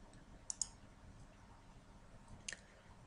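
A computer mouse clicked on a software button in a configuration tool, a quick double click followed by another faint pair of clicks, very quiet and close with no talk.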